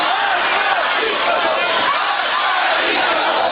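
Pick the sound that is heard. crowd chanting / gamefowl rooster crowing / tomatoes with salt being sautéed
crowd chanting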